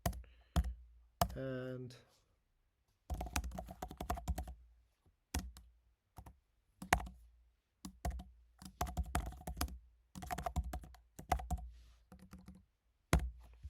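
Clattering bursts of keystrokes as Java code is typed on a computer keyboard, close and crisp, arriving in uneven clusters separated by pauses, with a voice briefly heard between them.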